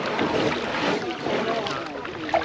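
Canoe paddles dip and pull through calm water, with soft splashing strokes and watery swishes close by, over steady wind noise on the microphone.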